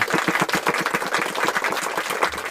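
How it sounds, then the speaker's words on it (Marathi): An audience at a Marathi devotional kirtan honouring the goddess Saptashrungi claps in a steady, rhythmic pattern, with sharp, evenly spaced claps running continuously at moderate loudness. "टाळी वाजवा."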